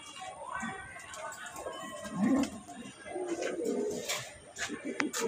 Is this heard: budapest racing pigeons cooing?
yes